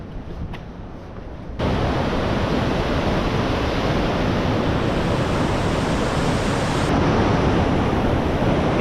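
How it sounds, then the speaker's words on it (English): Roaring water of Nevada Fall in Yosemite, a steady, loud, broadband rush that grows stronger after the first moment and carries on without break, with no one speaking. "If you can hear me over the water, Nevada Falls for the win."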